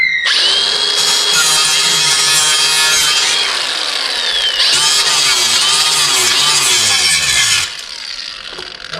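A power grinder grinds excess broken plastic off a repair with a loud, continuous, harsh rasp that shifts in pitch as the tool bites. It stops near the end.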